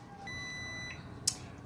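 An oven timer beeps during baking of a cauliflower pizza: a single faint, steady electronic tone lasting under a second, followed by a brief click, with no talk.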